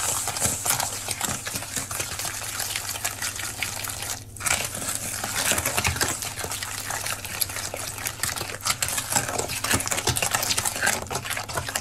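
Pumpkin purée being stirred into a spiced pie filling, a steady run of wet, rhythmic scraping and sloshing strokes in a bowl, close and continuous with a brief pause partway through.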